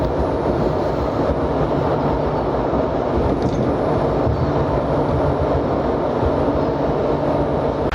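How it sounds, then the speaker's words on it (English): A Warsaw city tram rolls along with a steady, loud broadband rumble and rail noise heard from on board, continuous with no pauses and no one speaking. "it's the city tram, which goes straight down and will get you there in about 5 minutes"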